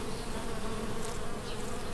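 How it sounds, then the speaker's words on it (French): Bees fill the air with a dense, steady buzzing, many insects droning together close by in a continuous hum that holds at an even level throughout with no voices. "Moi, j'aime les abeilles."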